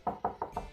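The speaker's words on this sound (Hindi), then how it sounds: "इसके बाद खटखटाने की आवाज शुरू हुई। आवाज तेज होती गई।" Knocking on van windows as a sound effect in a retelling of a Japanese urban legend, four soft, evenly spaced dull knocks in quick succession, fairly faint.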